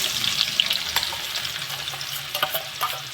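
Chopped onion frying in hot oil with cumin seeds in a pan, a steady close sizzle with scraping stirs and small pops throughout, no voices.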